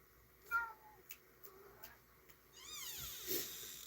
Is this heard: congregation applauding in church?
no